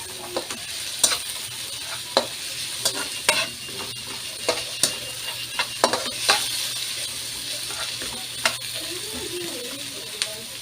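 A spoon stirs a simmering pot of salmon head sinigang, with scattered clinks and scrapes against the pot over a steady low hiss of cooking.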